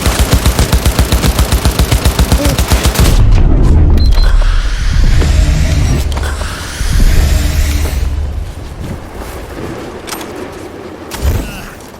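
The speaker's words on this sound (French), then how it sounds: "On me tire dessus!" Rapid automatic gunfire in Cyberpunk 2077 rattles in a dense, loud, steady stream, then gives way to booming impacts and chaotic combat noise with a final thud.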